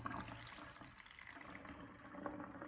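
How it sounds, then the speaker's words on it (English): Water pours steadily into a funnel with a continuous close gurgling splash that neither builds nor fades, with no talking. "I've got the water. Let's pour it in."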